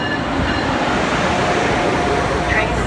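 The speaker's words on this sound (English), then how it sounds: "Train approaching, please remain behind the yellow line." Loud, continuous rumble of an Acela train rolling into Route 128 station, with a dense wash of rail noise and a faint tone, no pause throughout.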